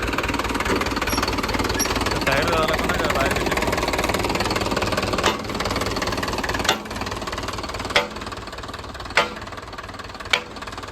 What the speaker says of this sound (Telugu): చూడండి గాయస్ ఇది మన ట్రాక్టర్